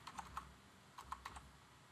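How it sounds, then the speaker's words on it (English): Quiet computer keyboard typing of an email address, two short clusters of soft key clicks separated by a brief pause, close and alone with no talking. "We can enter our email."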